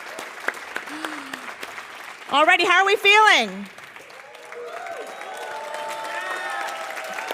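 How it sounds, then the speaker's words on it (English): Audience at the UN SDG Awards ceremony applauding, a steady patter of clapping from a crowd across the clip, while a host speaks loudly into a microphone partway through. "Let's have a round of applause"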